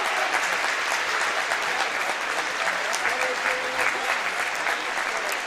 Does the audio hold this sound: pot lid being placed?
no